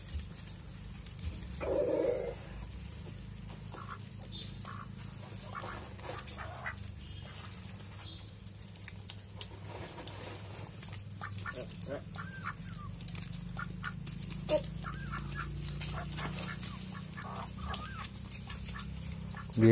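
Turkey chicks and adult turkeys on an Indian poultry farm give scattered chirps and clucks over a steady low hum, with someone talking throughout.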